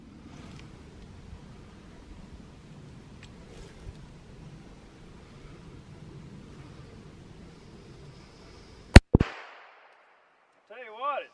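A single sharp pistol shot cracks out during a test firing outdoors, loud and close, followed by a quick second bang and a fading echo, then a voice speaks briefly after a quiet background hum.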